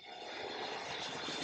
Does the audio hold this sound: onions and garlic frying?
no